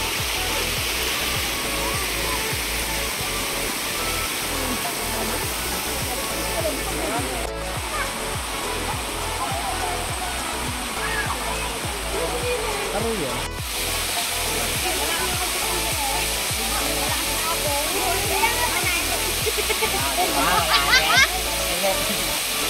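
Aruyan Falls, a clear-water tourist waterfall with bathers, roars in a steady, broad rush that runs nonstop from near by, with voices talking over the falling water throughout.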